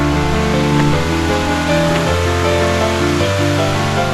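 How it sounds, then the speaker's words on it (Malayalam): The second cascade of Thusharagiri waterfall in Kozhikode, Kerala, pours as a loud, steady roar of rushing water that stays constant throughout, heard close up with no voices. "ഇത് 2ാമത്തെ വെള്ളച്ചാട്ടമാണ്."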